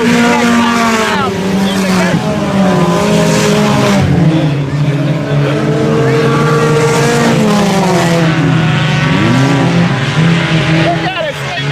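IMCA sport compact front-wheel-drive race cars roar around the Salina Speedway dirt track, a loud, unbroken engine drone with pitch rising and falling as cars accelerate and slide through the turns.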